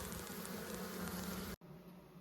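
A swarm of honeybees, shut in a small hive box in a workshop, gives off a dense, steady, close buzzing hum that cuts out for an instant and then resumes.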